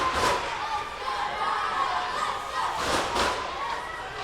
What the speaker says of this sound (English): So our crowd is back in full throat.